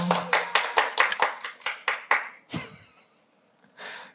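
A small lecture audience at a Korean exam-prep class gives a short round of rhythmic clapping, about a dozen sharp claps that taper off, followed by a brief rustle.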